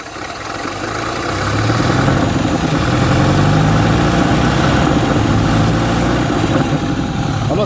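An engine in a 1971 vehicle runs on choke right after starting, a steady, loud, rough low rumble that holds close and even for several seconds with no one speaking.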